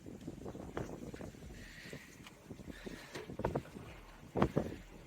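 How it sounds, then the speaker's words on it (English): Gusty wind buffets the microphone outdoors, low rumbling bursts with a few faint knocks and rattles, no voices. "It's a little windy."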